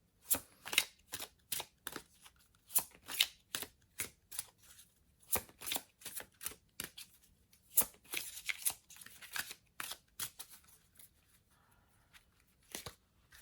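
A deck of tarot cards is shuffled by hand in a quiet room, sharp papery riffles and slaps coming in irregular bursts for over ten seconds with brief pauses between them.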